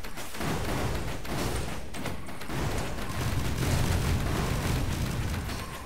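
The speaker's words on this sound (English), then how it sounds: "Spite, the ghosts exploding into spite." Ghosts burst apart in the video game Risk of Rain, producing dense, continuous rumbling explosions and pops that overlap into a loud, chaotic barrage with no clear gaps.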